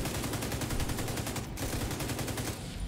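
Rapid automatic gunfire from Tom Clancy's The Division, a steady stream of evenly spaced shots with a brief gap partway through, loud and close.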